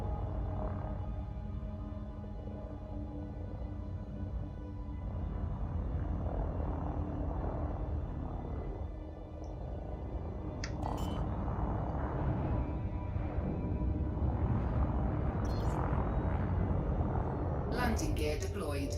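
A spacecraft touches down on a planet in the game Elite Dangerous Horizons, with a continuous low thruster drone that stays steady throughout, faint voices over it and a few brief high chirps near the end.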